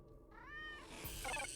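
Single cat meow in the video game Tales of the Neon Sea, a short rising-falling cry heard alone and fairly close, followed by a brief game sound effect.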